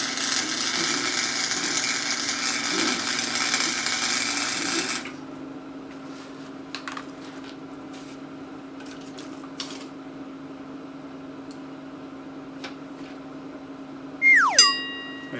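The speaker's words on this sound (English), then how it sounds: "So go ahead and weld it on and pop it off" Welding onto a rusted bolt on a 1981 Chevy C-10 gives a loud continuous crackling buzz for about five seconds, then a quiet hum with faint ticks and a brief metallic clink near the end.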